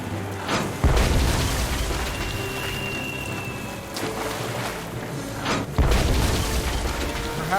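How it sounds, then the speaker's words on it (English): A cannon fires in the video game Tales of Monkey Island: two deep, heavy booms a few seconds apart over a steady rain-like rush of ship ambience, loud and close. "It is for me to shoot the cannon"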